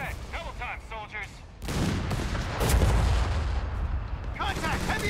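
Heavy machine gun fire in Company of Heroes 3 battle: after opening voice chatter, sustained loud rattling bursts and booming impacts fill the clip, with a voice returning at the end.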